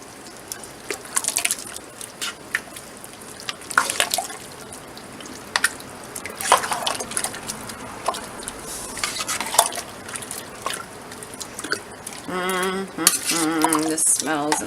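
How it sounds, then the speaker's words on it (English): A spoon stirs chili beans and navy beans in a pot of chili for canning, scraping and clinking against the metal with wet, sloshing sounds, close and steady, without talk. "chili beans in there. Let's get that stirred in."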